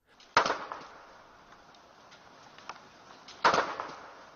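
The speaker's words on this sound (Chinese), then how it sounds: "之后记者又往塑料瓶里放入1/2的氧化钙，结果不到1分钟，塑料瓶爆炸了。" A plastic bottle packed with calcium oxide desiccant bursts, giving a sharp close bang, then quiet hissing, then a second loud burst a few seconds later.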